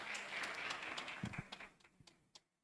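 Audience applause at a hackathon launch event, a spread of clapping hands that thins out into a few scattered, separate claps before fading, with no talk over it.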